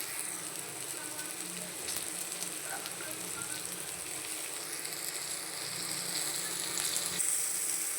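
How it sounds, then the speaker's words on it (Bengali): Chopped bitter gourd leaves frying in a pan with mustard paste and spices, a soft continuous sizzle and crackle that swells slightly toward the end, heard alone without talk. "এবার উচ্ছে পাতা যে কুচিয়ে রেখেছি ওইটা দিয়ে দিচ্ছি।"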